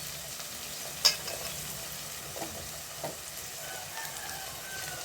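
Onions and garlic sauté in a pan for a tamarind cowpea curry, giving a steady, fairly quiet sizzle. A sharp utensil knock and a few softer stirring clicks break through, with no one speaking.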